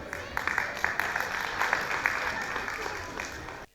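Audience applause at a Pongal festival gathering, a dense steady patter of many hands clapping close by for a few seconds before stopping abruptly.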